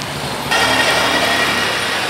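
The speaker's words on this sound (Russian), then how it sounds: "Это местный рейсовый автобус." A local scheduled bus in Nepal rolls past close by, a broad engine roar that swells suddenly and stays loud and steady as it goes by.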